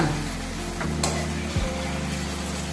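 Ginger and mint sauté in a pan over a medium flame for a thokku, giving a steady close sizzle with stirring scrapes and a single sharp clack partway through.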